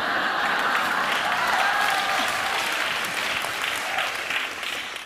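A large crowd applauds loudly and steadily, a dense wash of clapping that tapers slightly at the end.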